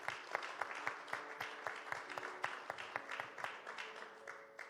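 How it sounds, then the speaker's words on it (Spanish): Congregation at a church service applauding in gratitude, steady dense clapping from many hands throughout, fairly distant and even. "le damos nuestro aplauso en gratitud por haber estado el día de hoy ahí"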